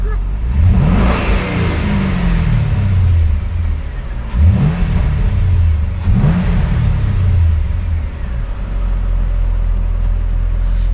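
A Chevrolet Lumina SS engine revs repeatedly while cruising on a highway, three or four rising surges of revving over a constant loud road rumble inside the car, with no voices.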